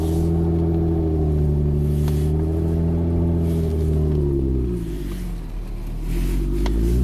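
A Jeep Wrangler running with no muffler drives a mountain trail, its engine a loud, steady, deep rumble with shifting harmonics as it revs and eases off, alone throughout with no talk.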